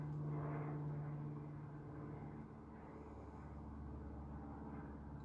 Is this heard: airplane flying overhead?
yes